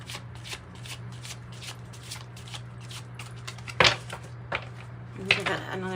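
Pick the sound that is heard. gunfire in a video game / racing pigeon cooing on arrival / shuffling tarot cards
shuffling tarot cards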